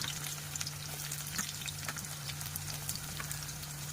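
Onions frying in oil, a continuous sizzle with small crackles and spatters over a low steady hum.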